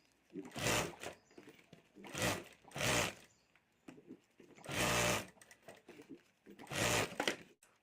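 Sewing machine stitching a handmade jewelry bag at home, several bursts of whirring needle action separated by short pauses, close and clear.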